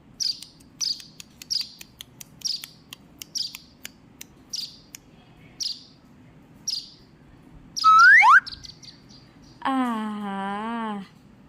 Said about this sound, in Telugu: పిచ్చుకల్ని దూరం నుంచి తప్ప దగ్గర నుంచి ఎప్పుడూ చూడలేదు